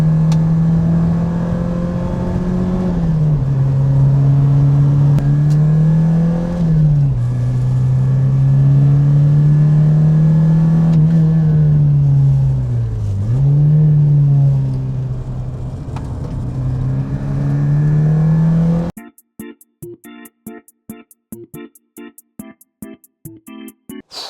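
A Porsche 944 being driven, its engine droning steadily and loudly with a few rises and dips in revs, then cutting off into broken, choppy noise near the end.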